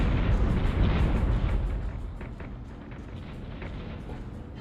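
Warship cannon fire in the game Ghost Fleet, a heavy rumbling blast that rolls and fades, followed by scattered crackling impacts, loud and close with no talk.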